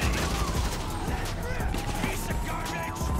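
An AK-47 assault rifle fires in GTA 5 in long, rapid bursts. The shots rattle steadily and loudly across the whole span, with game noise and a voice faintly underneath.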